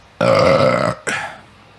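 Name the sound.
burp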